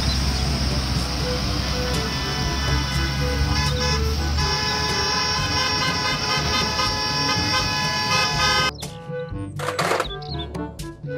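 A toy school bus plays a sustained electronic tooting horn with a busy mechanical whir for several seconds, then stops with a few clicks and clattering handling noises.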